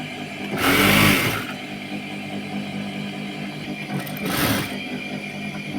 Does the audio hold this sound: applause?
no